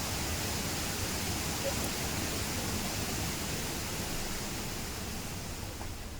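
Koheda Waterfalls near Pedda Amberpet, Hyderabad, swollen in the monsoon, gives off a constant, dense rush of falling water. The roar is broad and unbroken, and it fades slightly toward the end.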